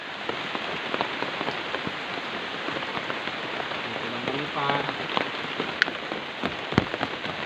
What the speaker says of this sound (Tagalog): Mahirap pag ganitong umuulan.